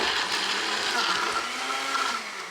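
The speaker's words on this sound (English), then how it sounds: "Then blend that all together." A blender whirs continuously, loud and close, blending a smoothie of banana, mango, honey and milk, with a steady grinding roar throughout and no talk.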